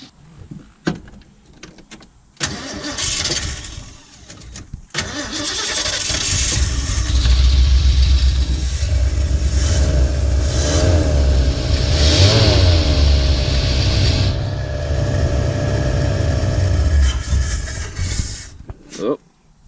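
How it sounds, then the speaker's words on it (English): A 1979 Ford E250 van with a carbureted engine cranks after a few short starter bursts, catches and then revs up and down loudly for several seconds, with voices in the background. "As long as I did something correct, this theoretically should start and run."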